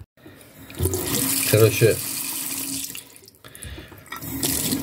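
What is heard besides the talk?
tap water running while wetting a banknote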